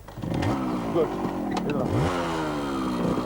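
A motorcycle on a drama set is kicked into life and revved, its engine buzzing steadily with rising and falling pitch sweeps throughout, while a voice speaks briefly over it.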